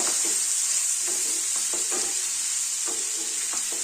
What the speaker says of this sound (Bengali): এভাবে ভালো করে একটু ভেজে নেব